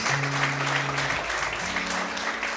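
A church congregation claps continuously in broadband applause that holds steady throughout, with sustained organ or keyboard notes sounding underneath in two separate stretches.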